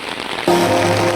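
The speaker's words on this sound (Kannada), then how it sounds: "Heavy rain." Heavy rain on a roof at a roofing site, starting as a quieter patter and swelling into a loud, dense, steady drumming partway through, no voices.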